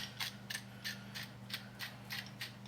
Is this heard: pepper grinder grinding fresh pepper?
yes